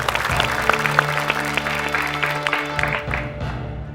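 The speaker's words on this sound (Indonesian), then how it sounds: "berikan tepuk tangan" Audience applause at an Indonesian TV comedy show breaks out for a welcome, a dense burst of clapping over steady background music that fades away after about three seconds.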